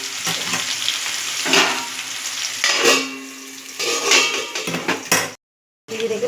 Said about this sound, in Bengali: আমাদের হালকা লাল লাল ভাজা হয়ে গেছে, কিন্তু আমরা আরেকটু ভালো করে ভেজে নেব।